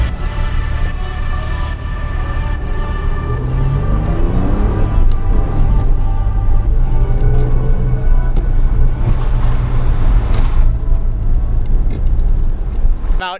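An off-road vehicle grinds up a snowy trail at Laurel Lakes, its engine a continuous loud drone with shifting revs and rumbling tyre noise close to the recording point.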